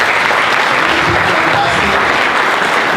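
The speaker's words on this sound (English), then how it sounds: "If you can just give him a round of applause." A crowd of alumni gathered at a school applauds General Jaswal with a thick, even wash of clapping that holds at full strength for the whole stretch.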